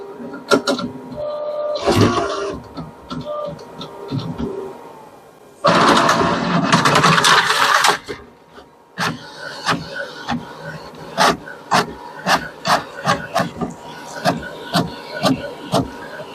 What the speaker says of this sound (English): Now it should try to reinitialize the printer again.